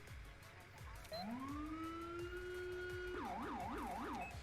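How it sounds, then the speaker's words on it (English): An electronic emergency-vehicle siren in GTA 5 rises to a long steady wail, then switches to a rapid yelp pattern, loud and continuous over a low background rumble. "So that's a siren I have installed."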